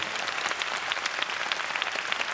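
Dense applause from a concert audience fills the whole stretch, steady and close, many hands clapping at once with no voices standing out.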